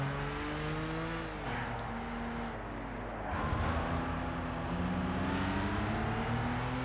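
RUF sports car racing in Gran Turismo 6, its engine droning steadily with rising and falling revs through gear changes, one brief dip before it accelerates hard again, continuous and fairly loud with no talk.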